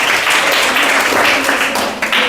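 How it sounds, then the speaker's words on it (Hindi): A quiz-show audience claps for a contestant who answered correctly, a dense, steady burst of applause for about two seconds that dips briefly near the end. "इनके लिए एक जोरदार ताली होना चाहिए"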